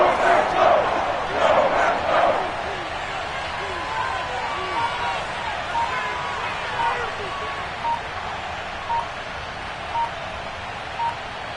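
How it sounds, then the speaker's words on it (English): A football stadium crowd roars during a big third down late in the fourth quarter of a close game, loud at first and then settling into a steady rumble with scattered shouts and whistles. "The crowd getting into it as we come up on a big third down."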